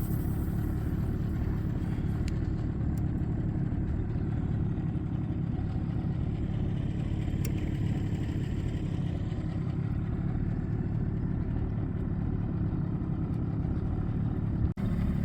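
A boat engine drones steadily as the boat speeds across a lake, a continuous low, fairly faint rumble with wind and water noise and no breaks.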